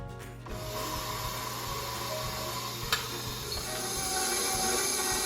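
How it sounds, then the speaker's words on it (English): An electric mixer mixes ingredients for sun bread before the flour goes in, giving a steady, fairly loud mechanical whir with a grinding, ratcheting edge that runs continuously and close. "I'll turn on my mixer, but it's pretty loud."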